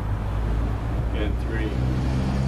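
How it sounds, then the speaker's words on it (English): A car with a noisy muffler passes near a covered bridge over Simpson Creek, giving a steady low exhaust rumble with a faint whine and no clear talk. "damn car. Get your muffler fixed."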